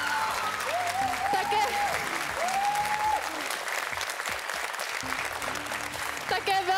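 A large talent-show audience claps in steady, sustained applause after a final performance, filling the space throughout while a speaker's voice carries over the top of it.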